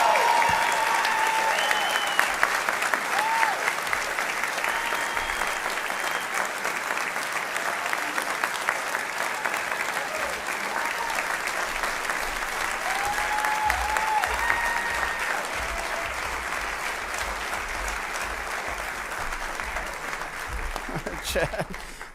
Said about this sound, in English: I couldn't even get it started before they started clapping